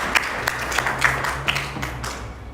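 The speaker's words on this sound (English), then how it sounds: "give yourselves a hand" A luncheon audience in Hilo, Hawaii, breaks into brief applause. The scattered clapping is moderately loud and lasts only a couple of seconds.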